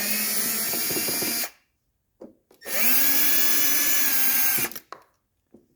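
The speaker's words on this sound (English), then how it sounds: "And we just take out our 4 screws." A power driver spins out screws from an interior panel of a 1985 Surf Blue wagon, heard as two long, loud whirring runs with short taps and brief quiet gaps between them.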